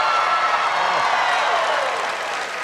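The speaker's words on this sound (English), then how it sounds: "Can everybody give Shay a big round of applause?" An audience gives a big round of applause for someone named Shay, dense steady clapping with a few cheers, loud and sustained, fading slightly toward the end.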